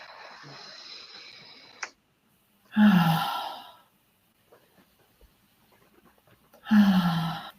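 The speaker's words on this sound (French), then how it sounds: "J'inspire et je relâche." Slow, deep breaths in a guided relaxation exercise: two long, airy exhalations several seconds apart, each heard alone and close, with a quieter inhale before the first.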